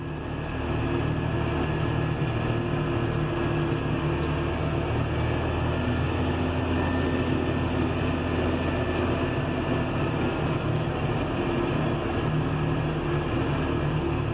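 A John Deere 6140R tractor drives at over 40 km/h under no load, a steady, loud engine and drivetrain drone with broadband road rumble running without a break from start to finish.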